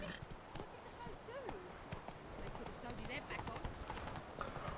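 A horse galloping in The Witcher 3, with rapid rhythmic hoofbeats and clattering steps running steadily over the whole stretch, a brief whinny-like tone early on, all fairly quiet.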